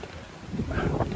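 Wind buffets a microphone at a hilltop viewpoint at a temple overlooking the sea, a brief rough rushing with low gusty rumbles and no clear speech.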